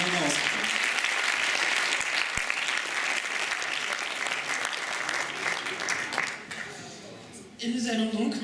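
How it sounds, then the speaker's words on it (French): Audience at the final of a student eloquence competition applauding the candidates, dense sustained clapping filling the room for several seconds, dipping briefly near the end before surging again, with a voice faintly audible beneath. "Je pense qu'on peut encore les applaudir."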